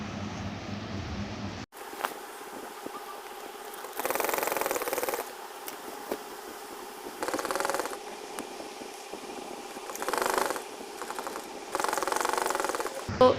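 A sewing machine runs in several separate bursts of a few seconds each while a kurti collar is stitched, its motor whirring loud and close with pauses in between.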